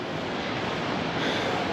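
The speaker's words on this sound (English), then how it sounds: "Nice waves there." Choppy sea waves wash onto the shore at Ca'n Pastilla, Mallorca, on a January day, making a steady, close roar of surf mixed with wind noise, with no talking.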